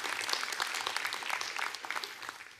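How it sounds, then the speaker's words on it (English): A church audience applauds during a sermon with brief, moderately quiet clapping from many hands, dense at first and tapering a little after the midpoint. "Yeah, you can clap for that."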